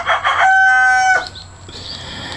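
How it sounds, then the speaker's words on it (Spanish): A rooster crows once nearby on a farm growing avocado trees, a loud drawn-out call lasting about a second, followed by quieter ambient noise. "gallito quiere participar también en esta reunión"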